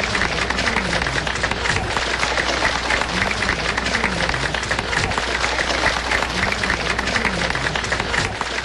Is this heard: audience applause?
yes